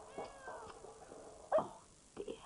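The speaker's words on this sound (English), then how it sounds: "Sounds as though Pippin is still chasing that cat" A dog chasing a cat outdoors in a 1994 children's programme: a cat meows and yowls and a dog whimpers and yelps, with a short loud cry partway through and softer animal noises before and after.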